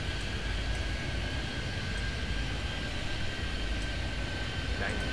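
An airliner takes off at Toronto Pearson in an airport video game, a continuous, evenly loud engine roar with no break.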